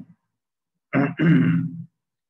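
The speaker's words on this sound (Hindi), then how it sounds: "एक तो मुझे खांसी बार बार आ जाती गला खराब हो जाता" A single close, rough throat clearing, a short burst then a longer gravelly rasp, heard alone in a quiet room.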